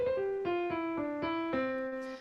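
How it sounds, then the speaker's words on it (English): Electronic keyboard notes, heard through a USB interface, play a short descending line, each tone struck cleanly in a steady rhythm with sustained, bright, organ-like timbre, heard alone. "so that is the sound of my keyboard coming through my USB interface"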